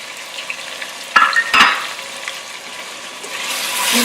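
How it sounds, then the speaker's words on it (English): Masala of ginger garlic paste, tomato and spices fries in a pan with a soft steady sizzle, broken by a few sharp scraping stirs of a spoon and a rising hiss toward the end. "We're going to fry this masala or base or mixture until pretty much all the moisture from tomato is gone"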